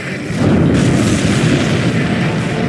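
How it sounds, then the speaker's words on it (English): Huge underwater explosion in a submarine warfare video game: a loud, deep rumbling boom that swells quickly and holds as a sustained low roar for a couple of seconds. "A huge explosion just went off underwater."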